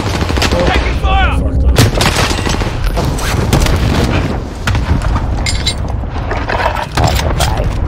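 Dense, loud gunfire from a shooter game, with rapid overlapping shots and bursts from several weapons. The firing runs almost without pause, with booms mixed in and a voice talking briefly over the battle.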